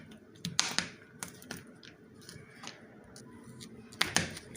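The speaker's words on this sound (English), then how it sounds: "Now I'm going to dice my cashew nuts." Knife dicing cashew nuts on a cutting board for a chicken salad, heard as a few sharp, close chopping taps at irregular spacing with quiet pauses between them.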